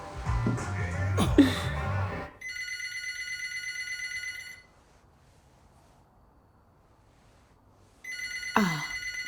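A telephone in a Hindi-dubbed movie rings in repeated electronic trills, two bursts separated by a quiet pause, with some voices and noise at the start.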